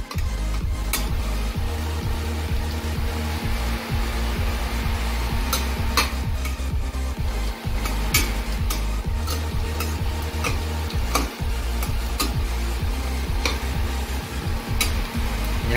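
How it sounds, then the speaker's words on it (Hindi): Chicken for Ghati-style sukka frying over medium-low flame while being stirred continuously, a steady sizzle punctuated by repeated sharp clicks and scrapes of a spoon against the pan, close and loud, no voices. "तो ये जो है कंटिन्यूसली इसको स्टर कर रहे हैं और ये गोल्डन ब्राउन होने तक इसको थोड़ा फ्राई करना है धीमी आंच पे"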